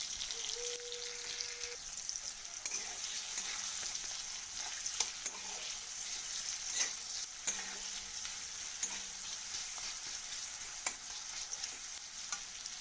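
Chopped onion and ginger fry in hot oil for egg chowmein, a soft, steady sizzle with occasional light crackles, continuous and fairly quiet with no talking.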